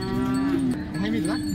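A cow at a cattle market in Modnimb gives one long, loud, close moo that wavers in pitch, with faint market background and no talk.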